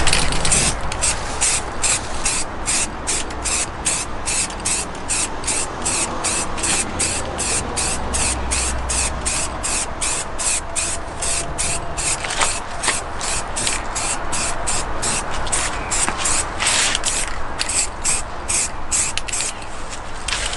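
Spray paint hisses steadily onto a Toyota MR2 part, a near, continuous coat applied in long passes for about twenty seconds, with no talking over it.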